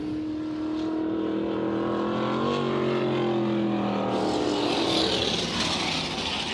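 Race cars drone continuously around the track during a heat race at Southern Iowa Speedway, with engine pitch rising and shifting as the cars pass at moderate distance.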